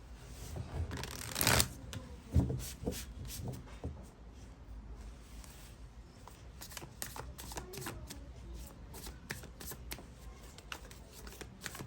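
A deck of tarot cards is shuffled by hand in a quiet room, a soft continuous riffling and flicking with a couple of louder bursts early on, close and faint throughout.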